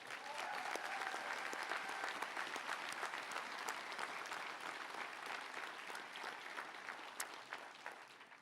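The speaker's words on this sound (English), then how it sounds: "let's give them all a round of applause" An audience at a college commencement ceremony claps in a sustained, even wash of applause, filling the hall and slowly thinning out near the end.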